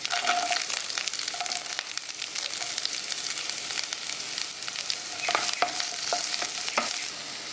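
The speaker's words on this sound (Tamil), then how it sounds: "இந்த பச்சை மிளகா வதங்கும்போது பார்த்தீங்கன்னா வெங்காயத்தை எல்லாம் போடுங்க." Green chillies and onions sauté in a pan for Udupi hotel-style chutney, giving a continuous close sizzle with repeated scraping stirs and spatula clicks, and no voices.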